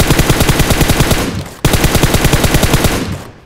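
Loud automatic gunfire in PUBG Mobile, two rapid bursts of evenly spaced shots, the first trailing off before a sharp restart, the second fading out at the end.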